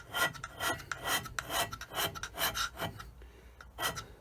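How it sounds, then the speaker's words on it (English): A hand scraper rasps across the end of a machine vice part for a shaper, a steady series of close, gritty strokes about every half second, with no talk. "So we're only scraping this end so that it'll pick up a bit of print ink."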